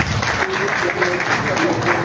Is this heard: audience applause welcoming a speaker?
yes